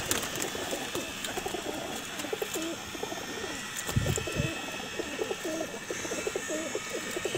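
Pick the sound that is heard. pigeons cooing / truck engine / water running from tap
pigeons cooing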